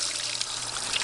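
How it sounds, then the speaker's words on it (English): Water sprays from a nozzle onto a small bronze Pelton wheel turbine in a micro hydroelectric setup, producing a steady, close hiss of splashing spray throughout with no voices. "It starts spraying."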